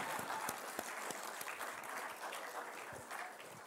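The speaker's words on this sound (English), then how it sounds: "can we have a louder round of applause to celebrate their achievement?" Audience applause at a school accolades assembly, a steady wash of clapping from a gathered crowd, fairly even throughout with a few sharper individual claps standing out.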